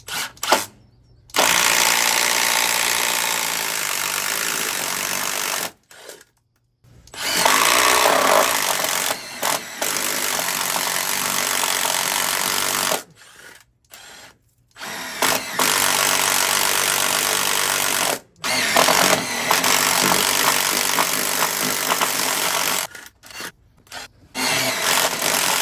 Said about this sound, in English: I'm going to have to make another one over here and drill through this.